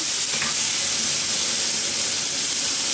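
Brinjal sautéing in a pan for a masiyal, a steady hiss and sizzle running unbroken and fairly loud throughout, with no voices.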